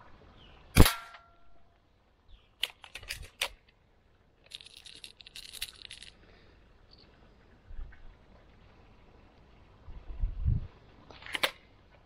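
An HK MP7 replica is fired while plinking at targets: a few sharp, isolated shots with metallic clicks and rattles between them, separated by quiet gaps and some low handling bumps.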